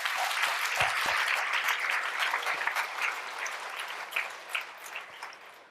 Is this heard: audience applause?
yes